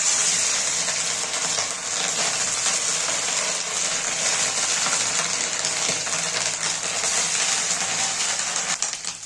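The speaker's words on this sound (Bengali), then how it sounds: "এবার আমি ডিমগুলো সব ভেজে নেব।" Fish roe, salted and turmeric-coated, frying in hot oil for a Bengali curry: a steady, loud sizzle that holds throughout without pause.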